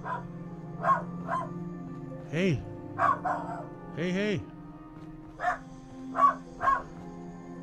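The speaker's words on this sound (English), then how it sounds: "I swear this is not the game, it's my dog." A pet dog barks sharply in short, scattered bursts in a room behind someone playing Fallout 4, some yelps stretched into howl-like cries, while a person calls out a couple of brief words between them.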